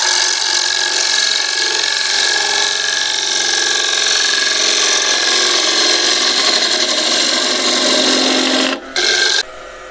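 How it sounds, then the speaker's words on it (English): A bottom bowl gouge cuts shavings from a live edge oak bowl spinning on a lathe, a loud steady rasping hiss over the motor hum that cuts out briefly near the end, with no talking. "I do have a bottom bowl gouge which I sharpened as well on that video, and just take the shavings out"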